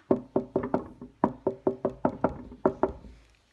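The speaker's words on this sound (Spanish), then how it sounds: "por fin el lunes tocaron a la puerta" Knuckles rapping on a door, a long series of about fifteen sharp, hollow knocks in quick irregular bursts, close and clear with no talking.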